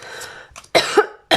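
Several sharp coughs in quick succession, close and loud, with a short rough throat sound before them.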